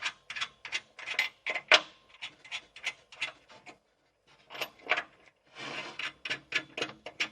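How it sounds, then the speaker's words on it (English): A nut is loosened and taken off a bench vise on a workbench, giving close, rhythmic scraping ratchet-like clicks in quick bursts with a short pause midway. "And now we're just going to loosen this one, or take the nut off this one now."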